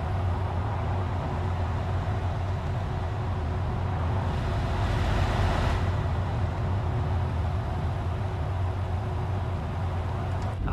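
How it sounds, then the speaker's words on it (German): A steady low rumble of truck tires rolling along in Euro Truck Simulator 2 with a sound mod, with a constant droning hum and a faint swelling hiss midway. "Da konnte man das mit den Reifen nur ein bisschen hören, dieses Abrollgeräusch."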